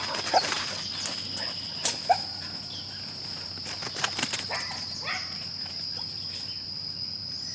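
Hunting dogs bark in short sharp bursts at the scene of a cat chase outdoors, several yelps scattered over a constant chorus of crickets and insects.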